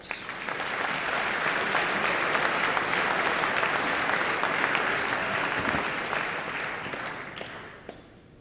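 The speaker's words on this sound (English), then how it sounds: "Let's give him a round of applause." Sustained audience applause at a school speech night swells in, holds steady and dense for several seconds, then tapers off near the end, with no speech over it.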